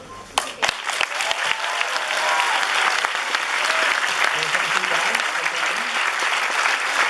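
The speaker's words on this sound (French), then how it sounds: "on peut les applaudir encore d'être venus" A festival audience in Paris applauds the film's guests after a Q&A, a dense sustained wash of clapping that swells after a few sharp early claps and carries on steadily, with faint voices underneath.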